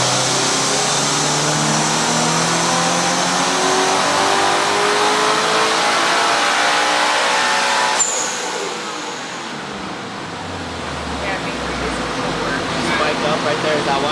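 Turbocharged Toyota GR86/Subaru BRZ pulled hard on a dyno, the engine climbing in a long loud sustained rev, then cutting off and settling to a lower idle hum.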